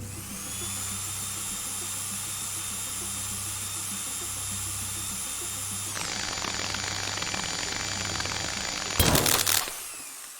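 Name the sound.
drill running in video game Stories Untold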